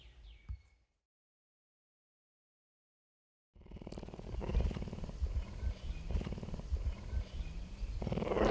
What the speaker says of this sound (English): He's a South American cougar.